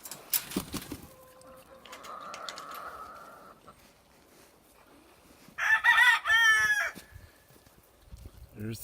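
Chickens and a rooster at a backyard chicken tractor on a spring day, with a loud crow bursting out midway among quieter clucks, a few brief calls early on and distant rustling throughout.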